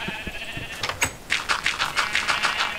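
Sheep in Minecraft bleat in a rapid run of short, bright calls that repeat closely together and fairly loud, following a few scattered clicks at the start.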